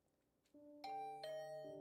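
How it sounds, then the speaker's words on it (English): A video game doorbell chimes in a clean electronic ding-dong, three bright sustained tones stepping in after a quiet start, alone and fairly soft. "Was that the doorbell?"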